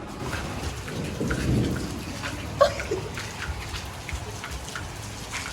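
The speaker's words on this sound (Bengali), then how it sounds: "আজকে বৃষ্টি পড়তেছে, ভরপুর বৃষ্টি" Heavy rain falling steadily outdoors during a storm, a constant dense patter with a low rumble swelling early and one sharp knock in the middle.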